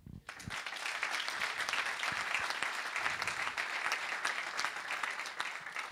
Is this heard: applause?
yes